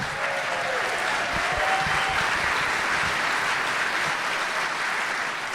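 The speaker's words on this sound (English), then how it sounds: "Always leave on applause" Audience applause at the live KUOW 2025 Year in Review event: sustained, dense clapping from a crowd that stays loud and even for over five seconds.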